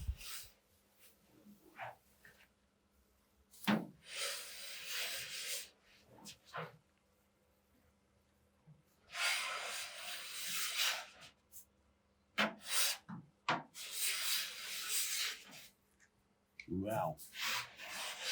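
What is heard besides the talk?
scraping thick paint off a Jaguar E-Type with tungsten blade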